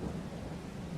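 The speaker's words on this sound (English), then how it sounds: "Man, sounds like a storm out there" A thunderstorm in the video game Farming Simulator 22 gives a low, faint, steady rumble with soft rain hiss throughout a brief moment, and no voices are heard.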